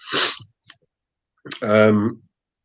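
A single sharp sneeze bursts out, followed after a pause by a short voiced sound, close to the microphone.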